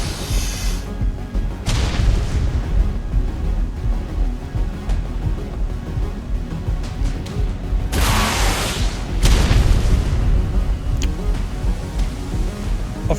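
In ARK Ragnarok, a string of heavy rocket explosions booms loud and close, several deep blasts with rumbling between them.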